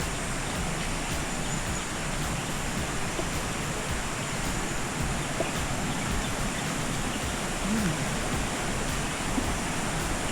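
Sungai Bantang waterfall at Bekok in Segamat gives a steady, full rush of falling water. The roar is continuous and close, with no talking over it.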